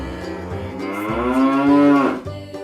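A single long, loud cow moo rising and then dropping off, close to the microphone, with a quieter low sound before and after it.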